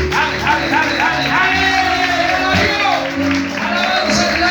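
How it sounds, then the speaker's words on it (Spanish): A church congregation applauds and cheers with shouts, a loud, continuous wash of clapping and raised voices that holds steady throughout. "Dale un aplauso al Señor. Dale un aplauso."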